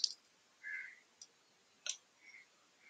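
A computer mouse gives a few faint, scattered clicks during work in Revit MEP drafting software, in an otherwise quiet room with no speech.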